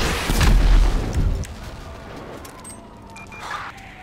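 Heavy gunfire and booming blasts in the GTA V video game, a loud burst of shots in the first second and a half before fading into quieter scattered pops and distant noise.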